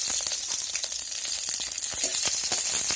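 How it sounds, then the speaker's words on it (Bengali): Whole cumin, a bay leaf and three green chillies sizzle in hot oil in a pan, a dense, bright, continuous crackle with rapid popping spits throughout. "তেলের মধ্যে দিয়ে দিলাম সামান্য গোটা জিরে, দিয়ে দিলাম একটা তেজপাতা, 3টে কাঁচা লঙ্কা"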